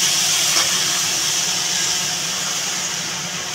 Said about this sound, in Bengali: আমি পরিমাণ মতো জল দিয়ে দেবো।